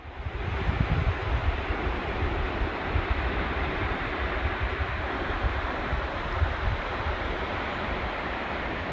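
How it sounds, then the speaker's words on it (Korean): A loud waterfall roars near a cliffside trekking trail, a dense, steady rushing wash of water that stays constant and close throughout with no voices. "곳곳에 폭포가 보이는데 물소리가 얼마나 큰지 여기까지 들립니다."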